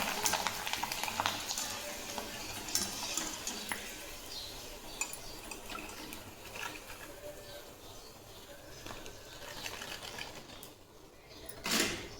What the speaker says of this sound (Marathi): आता ह्या चकल्या तळते मी साबुदाणाच्या आणि बटाट्याच्या